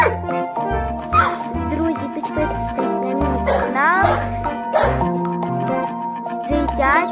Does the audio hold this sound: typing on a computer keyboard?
no